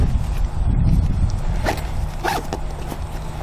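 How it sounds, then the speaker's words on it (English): A large heavy-duty zipper on a police officer's duty bag is pulled open in a few brief rasping strokes, close and moderately loud over a low background rumble. "there is a large heavy-duty zipper with zipper pulls to make it easy to get in and out of it"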